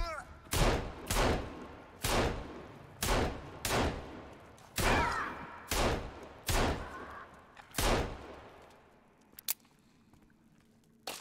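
Repeated gunfire in the survival video game Sons of the Forest, about eight loud shots spaced roughly a second apart, then the gun falls quiet as the ammunition runs out, leaving only faint clicks.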